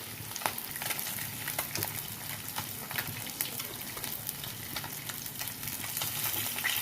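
Pieces of katla fish frying in hot oil, a continuous moderate sizzle with scattered crackles and pops and light utensil clinks throughout.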